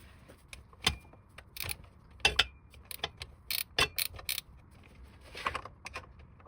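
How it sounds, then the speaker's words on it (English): A 19 mm wrench probing the rear end of a Nissan Z31 gives sparse, sharp metallic clicks and clinks at irregular intervals, close and fairly quiet, with no talk. "I actually believe I have a 19 wrench. Let me probe this."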